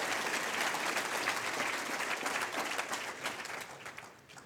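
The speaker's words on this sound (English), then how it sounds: "give yourselves a clap and pat on the back" A conference audience breaks into applause, a dense, even wash of many hands clapping at moderate distance, holding steady before tapering off at the end.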